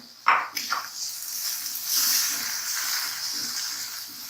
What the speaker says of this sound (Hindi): अब मैं ये एग्स भी इसमें फ्राई करूँगी